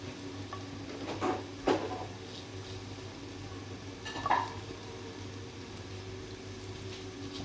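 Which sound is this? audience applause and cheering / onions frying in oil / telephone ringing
onions frying in oil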